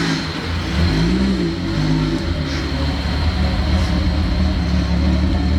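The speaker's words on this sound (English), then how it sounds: "That nice 262 cam sound." A car engine fitted with a 262 cam and a new exhaust runs close and loud, with a low rumbling note and a rev that swells and settles, continuous throughout.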